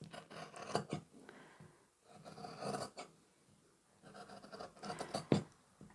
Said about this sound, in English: Now all we need to do is cut along the drawn line